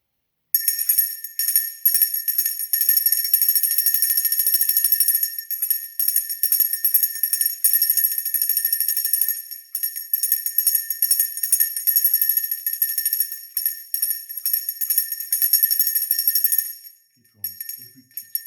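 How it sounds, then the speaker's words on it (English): A bell rung over and over, its bright, high metallic tone ringing steadily and sustained for most of the stretch before stopping abruptly near the end, with no voices. "I will also ring the bell."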